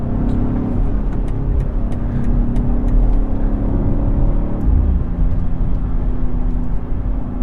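A BMW X3 M F87 Competition LCI cruising on the Autobahn in a strong crosswind gives a steady, loud broadband roar of engine, tyres and wind noise, continuous throughout with no speech.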